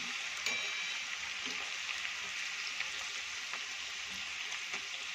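Onion and asafoetida masala sizzle steadily in a hot pan while being stirred, a constant close frying hiss with faint scraping ticks and no voices.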